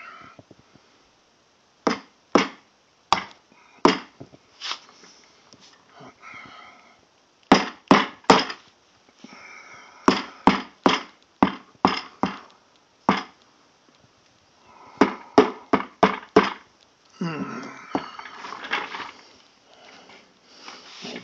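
Sharp repeated thuds of a rubber mallet striking, in quick bursts of three to five blows separated by short pauses.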